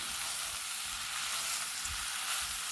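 White wine reduces in a hot sauté pan, giving a steady, loud broadband sizzle with low scraping thumps as the pan contents are pushed across, no voices.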